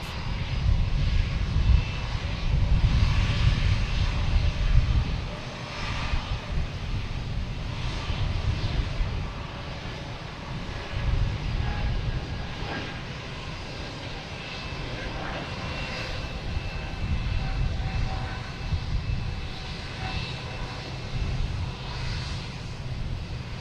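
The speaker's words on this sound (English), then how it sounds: "Next taking off is a JetBlue heading to Syracuse. A220, flight 845." A JetBlue Airbus A220 jet takes off at Boston Logan Airport, a loud, sustained engine roar with a heavy low rumble. It swells and eases in waves over more than twenty seconds as the aircraft climbs away.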